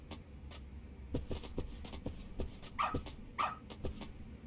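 Dog in the Lost Judgment video game giving a series of short, fairly faint barks and yips at an irregular rhythm, with two higher whining yelps near the end, over quiet background.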